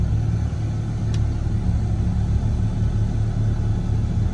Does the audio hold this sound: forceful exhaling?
no